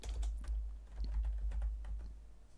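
Someone types on a computer keyboard with a quick, steady patter of close key clicks over a low background hum.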